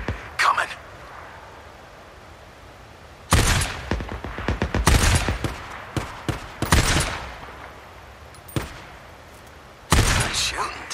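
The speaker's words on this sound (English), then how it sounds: "Nice shooting, Deke." Bursts of gunfire aimed at a Ripper mob in the post-apocalyptic game Days Gone, loud and close, arriving in separate volleys with quieter gaps between them.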